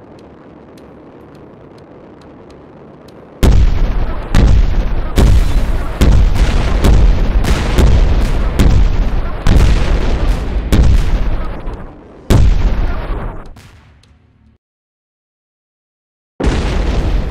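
Explosions in a fighter jet combat video game, an F-14 warplanes title: a rapid run of loud booming blasts, one after another, with a brief pause, a sudden drop to silence, then one more burst at the end.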